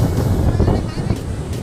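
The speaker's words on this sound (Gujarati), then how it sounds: "ખાલી દરિયાને ખાલી જોઈ લો મોજા કેવા આવે" Sea waves breaking on a beach make a loud, continuous rushing roar, with wind buffeting the microphone throughout.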